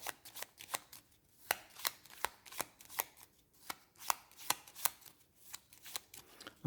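Cards from the Bloodborne board game deck are shuffled by hand, producing a steady series of crisp, sharp riffling snaps at a quick regular pace, close and fairly loud with no talking.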